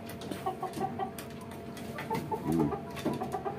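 Tiger chickens on a poultry farm cluck softly nearby, giving short, repeated calls with a brief louder burst partway through, set against low background noise.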